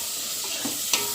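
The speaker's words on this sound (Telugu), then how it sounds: "వట్టుకనుకలు అయితే బాగా ఫ్రై అవ్వాలి" Dried meat pieces fry in a pan with a faint, continuous sizzle, broken by a soft stirring scrape and one brief louder clink near the end.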